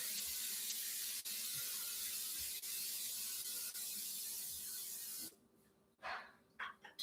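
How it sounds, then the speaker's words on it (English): A steady, loud hiss of cooking spray onto a skillet runs continuously for about five seconds, then stops, followed by a few light clatters and short bursts of noise. "I'm going to spray my skillet"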